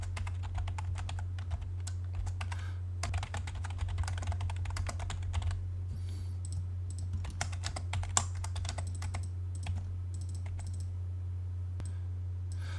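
Keystrokes on a computer keyboard during AutoCAD drafting work, a steady run of close, crisp clicks in bursts with short pauses, over a constant low hum and no speech.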